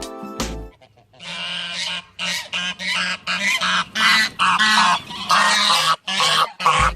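Doofus the goose honks again and again at close range in loud, rapid bursts with short gaps between them, harsh and nasal, and no voices.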